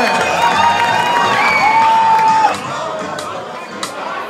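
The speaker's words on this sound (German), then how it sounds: "Einen großen Applaus für Karl" A crowd at a live show in the Ruhr area cheers and applauds as a performer named Karl is introduced, with whoops and babble over music tones.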